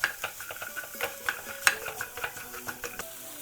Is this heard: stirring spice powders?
yes